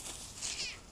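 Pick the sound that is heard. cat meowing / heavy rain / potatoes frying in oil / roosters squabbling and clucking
cat meowing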